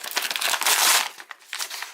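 Scissors cutting through a cardboard shipping box holding an imported watch delivery, heard as close, dry crinkling and scraping bursts that rise and fall over two seconds with no talking.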